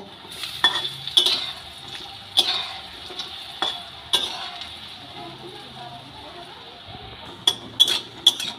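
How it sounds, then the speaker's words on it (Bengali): Chana dal fritters fry in mustard oil in a pan, a soft sizzle running underneath while a spatula clinks sharply against the pan several times at irregular intervals, close by with no talking. "ডালের বড়াগুলো উল্টে পাল্টে ভেজে নেব।"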